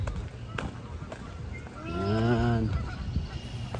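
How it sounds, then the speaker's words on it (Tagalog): Wild geese honking near Niagara Falls at Dufferin Islands, a loud, drawn-out honk rising and falling at the center, with scattered fainter calls and background noise around it. "maingay na yung mga ibon. Wild geese, o yan, wild geese doon."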